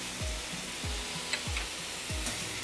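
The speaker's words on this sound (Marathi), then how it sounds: "हे थोडंसं टमाटर सॉफ्ट होस्तोवर आपण चांगलं भाजून घेऊया" Chopped tomato with salt sautéing in a pan: a constant loud sizzle, broken by four evenly spaced low thuds from the spoon stirring the mixture close by.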